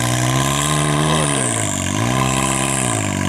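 A Can-Am Maverick X3 XRS side-by-side engine droning loudly while mud bogging, its pitch dipping and rising in revs over a steady throaty roar, close and with no talking.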